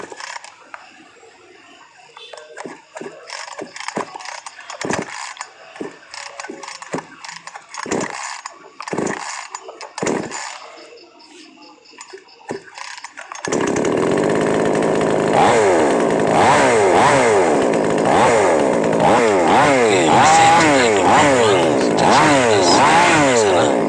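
A Hiton mini chainsaw is worked on with scattered mechanical clicks and rattles, then its small two-stroke engine starts and runs loud and steady, buzzing with rhythmic wavering revs.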